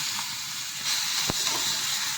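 Ground spices and asafoetida sizzle in hot oil for a tempering, a steady close hiss with a brief sharp crackle partway through.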